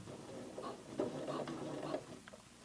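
A sewing machine runs a topstitch along Levi's jeans with a blind hem foot, its soft, fairly faint mechanical patter holding steady for a couple of seconds before easing off.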